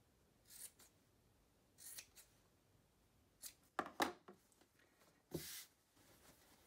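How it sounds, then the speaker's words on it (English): Scissors snipping the fabric corners of a sewn surgical cap, several short crisp cuts in irregular bursts, close and quiet with soft handling noise between. "I'm going to trim off the corners just to take some of the bulk out"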